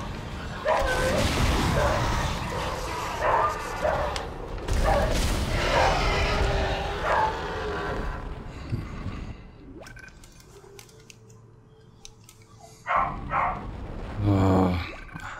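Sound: dog barking outside

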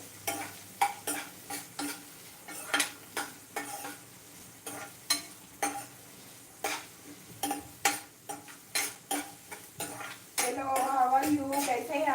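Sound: onions and green chillies being sautéed in oil in a pan

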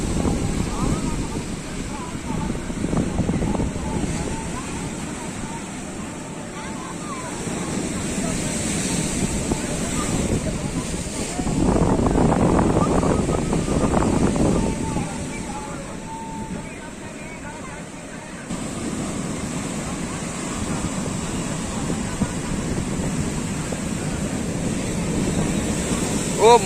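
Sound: sea waves crashing at high tide, Digha beach

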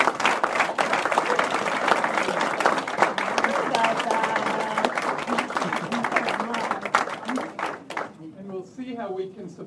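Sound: audience applause

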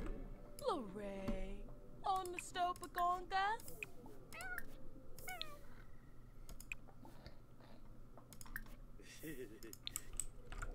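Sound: cat meowing in The Sims 4 video game

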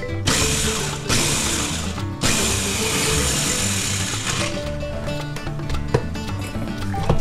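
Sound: food processor pulsing garlic and ingredients

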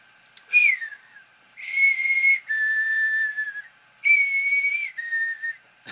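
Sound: whistled imitation of a character's whistle

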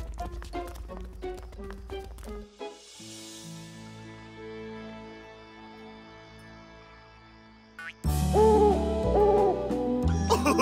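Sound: cartoon dodo owl hooting at night

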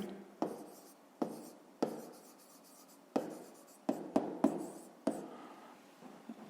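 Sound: writing a math solution

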